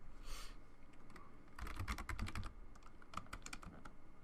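Quick bursts of keystrokes on a computer keyboard while configuring intrusion detection and honeypot software, clattering in uneven runs with short pauses between them, close and fairly quiet, with no talking.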